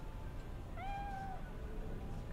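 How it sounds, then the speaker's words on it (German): A cat meows once in the Cyberpunk 2077 video game, a clear rising-falling call over a steady low game-ambience bed, with no talk. "Na, und nochmal die Katze"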